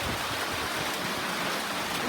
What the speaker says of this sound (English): This is just a little rain.